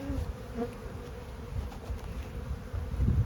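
Honey bees buzz faintly around an open hive that is being inspected, a soft steady hum with low rustling noises close by.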